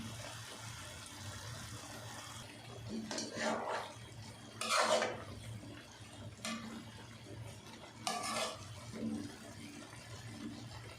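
A spoon scrapes and clinks against a pot as almonds and raisins are stirred into sweet zarda mutanjan rice, in a few separate bursts of metallic knocks over a quiet kitchen hum.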